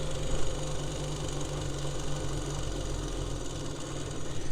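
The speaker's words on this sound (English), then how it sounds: "It's idling really nicely." A 1972 Honda CT90 K4 motorcycle engine idles steadily and close up, a continuous even putter with no voices.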